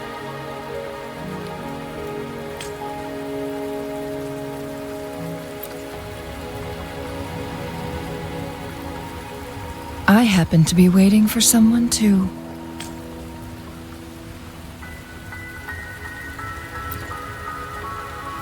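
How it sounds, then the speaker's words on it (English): Steady video game rain patters and hisses throughout beneath calm music tones, while a person speaks briefly partway through. "Are you trapped here by the rain?"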